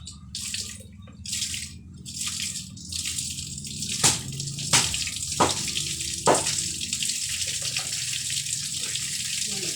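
Cool water pours and splashes as someone bathes, with a constant running hiss broken by several loud, sharp splashes midway, close to the microphone.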